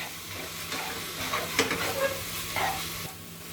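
Ground green masala sautés in oil in a pan for a Kashmiri green chicken curry, giving a steady soft sizzle with a few scraping stirs and light clinks of the spoon.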